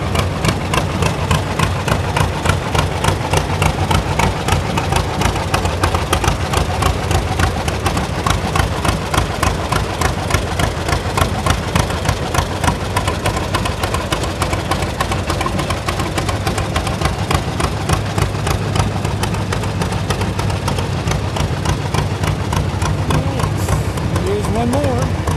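A tractor engine idles nearby at a county fair parade, with a steady, rapid chugging pulse that continues unchanged, and a voice talks over it.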